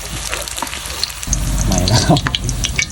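Mulberry leaves frying crisp in hot oil, a steady bright sizzle that swells into louder bubbling crackle partway through as more leaves go in, close up.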